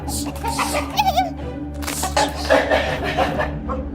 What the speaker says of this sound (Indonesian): Bu, makanannya diacak-acak ayam, Bu.